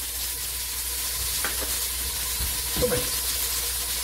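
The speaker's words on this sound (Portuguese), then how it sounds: "Agora já vou colocar aqui a manteiga." Butter melting in a pan for lasagna meat sauce gives a steady, soft sizzle and hiss, with a brief clink of a utensil stirring partway through. No one speaks.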